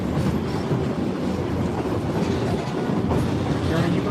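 A Colorado passenger train riding on rails, its wheels giving a continuous rumbling clickety-clack with rhythmic joint knocks, heard from inside the car at steady volume.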